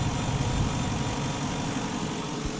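A 2017 GMC Sierra SLE Z-71 Elevation 4x4 engine runs smoothly at a steady, quiet idle, a constant low hum with a faint hint of vibration and no voices.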